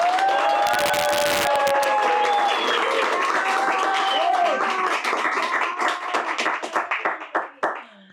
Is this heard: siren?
no